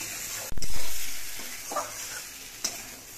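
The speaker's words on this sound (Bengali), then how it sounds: "এবার আলু দিয়ে আর মশলা দিয়ে আরো কিছুক্ষণ কষিয়ে নিতে হবে।" Fried potatoes stirred with spices in a pan for a jackfruit-seed curry, giving a steady close sizzle with a sharp scrape at the start and a few light spoon knocks after.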